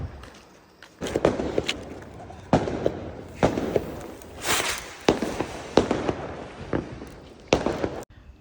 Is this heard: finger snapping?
no